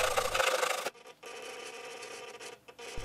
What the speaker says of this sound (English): I added these bits of balsa infill to catch the covering before sanding them flush.